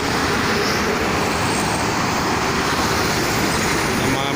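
Morning traffic on the Jakarta–Cikampek toll road, mostly transport vehicles and buses, a dense, loud, continuous roar of tyres and engines rushing past close by without break.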